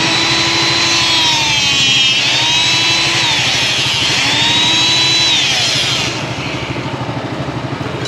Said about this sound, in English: We're gonna use our electric hydraulic rebar cutter, and I'm just gonna cut a bunch of little dowels